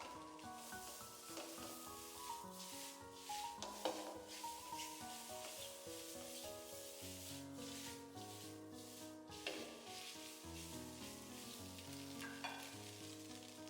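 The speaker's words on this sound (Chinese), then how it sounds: "然後再把火腿腸、胡蘿蔔絲和豆芽全部倒進來煸炒，給它炒熟、炒香，炒至斷生" Ham sausage, carrot shreds and bean sprouts are stir-fried in a wok with scrambled egg, giving a steady close sizzle with scraping spatula strokes, under background music.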